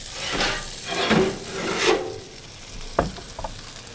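Butter, garlic and thyme sizzle in a hot pan, with an even crackle broken by several close scraping strokes as the pan is stirred, and no one speaks.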